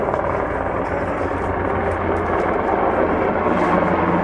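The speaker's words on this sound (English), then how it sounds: "These helicopters fly over my house all the time." A Black Hawk helicopter flies over a house, its rotor and engine a loud, continuous broadband roar with faint rhythmic blade pulsing throughout.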